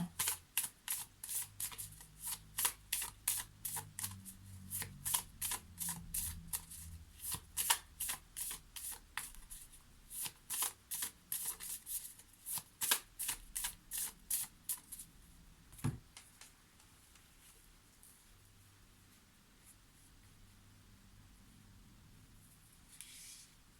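A deck of 44 oracle cards is shuffled by hand in rapid, repeated riffling bursts for about fifteen seconds, close and crisp, then a soft thump and near quiet.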